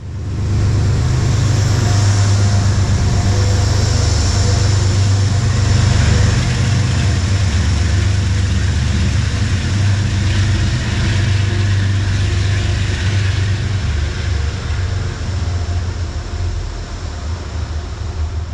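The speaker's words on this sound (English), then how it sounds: "The warehouse across the street echoes the sound nicely as New York Central Heritage Unit 211 shoves the 7-car train towards the South Norwalk station." New York Central Heritage Unit 211, a diesel locomotive, shoving a 7-car train toward South Norwalk station at night, a loud sustained engine drone echoing off a nearby warehouse and fading slightly toward the end.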